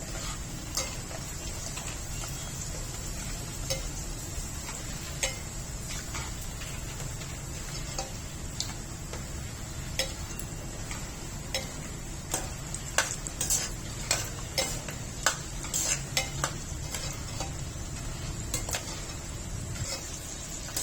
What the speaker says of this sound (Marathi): आता तेलामध्ये आपण बदामाचे काप आणि मनुके तळून घेणार आहोत